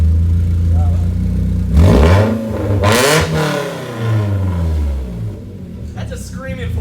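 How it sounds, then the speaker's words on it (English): Close, loud revving from a BMW E36 four-cylinder through a custom exhaust: several sharp throttle blips rise to a rasping peak and fall back toward idle, with brief voices between them. "That's a screaming 4-cylinder."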